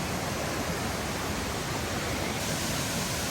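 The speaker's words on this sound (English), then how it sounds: "Just up ahead, we are coming upon our very first big waterfall." A big waterfall on a hiking trail, producing a loud, steady, broadband rushing roar that fills the scene without a break.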